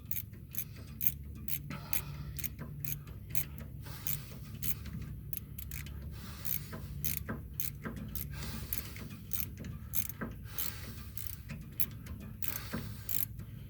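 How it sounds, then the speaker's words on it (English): A small quarter-drive ratchet tightens a bolt back in during an axle seal replacement on a Dodge, producing quick, quiet clicking bursts in irregular runs with small metallic clinks close by. "I'm just using a little quarter drive ratchet"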